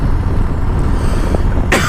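A single harsh cough bursts out near the end, close and loud, over a steady low rumble of road or vehicle noise.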